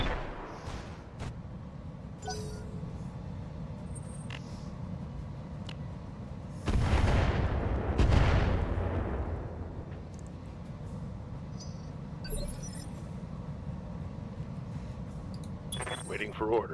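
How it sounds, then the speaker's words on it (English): Mech weapons firing in the RogueTech battle game, a heavy booming volley around the middle that rolls off slowly, with smaller metallic shots and clanks before and after over a constant low rumble. "Firing all weapons."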